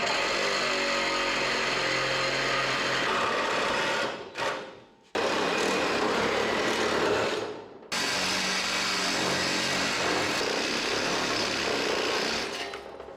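A power tool cuts welded brackets off a solid metal sign, running as a loud, steady, close buzzing whine that drops out twice briefly before resuming, with no talking.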